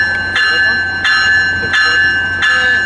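A Metrolink train led by ATSF locomotive 690 passes, its crossing or locomotive bell ringing in four evenly spaced loud strokes over a low rail rumble.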